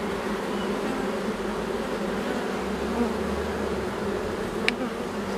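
A colony of honeybees hums continuously at an open hive during an inspection of the brood and a young queen, a dense, steady buzz close up with a faint passing tick near the end.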